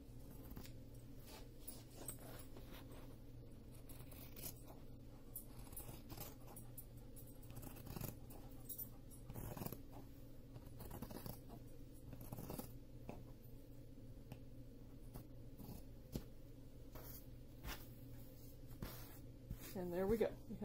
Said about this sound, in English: And cutting through all three layers.